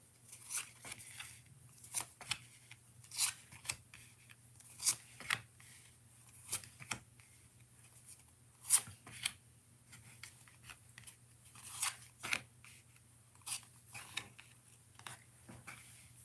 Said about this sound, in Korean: 추가 카드를 좀 뽑아볼게요